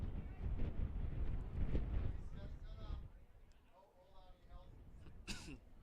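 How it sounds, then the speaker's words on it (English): Wind of about 20 mph, gusting to 30, blows at an outdoor track and field meet, a low rumbling buffet for a few seconds that eases off, with a short cough-like sound near the end. "The wind is just a howling 20 mile an hour."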